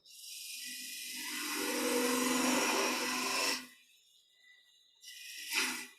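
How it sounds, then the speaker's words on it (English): A gouge cuts a cove into spinning wood on a lathe, giving a sustained rough hissing scrape that swells for about three seconds, stops, then returns briefly. "just clean up that bottom piece there with a passing cut with the gouge, and then I can cut my cove into here."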